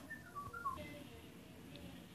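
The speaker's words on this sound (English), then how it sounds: "Was that ball just whistling?" A faint, quick run of whistled notes rises and falls over a steady background hum, with a thin tone trailing afterward, from a ball in a video game.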